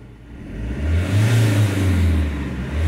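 The engine of a 2016/17 Fiat Ducato cargo van with 271,000 km on it catches and rises into a close, loud, rumbling idle that swells and settles, with no voices.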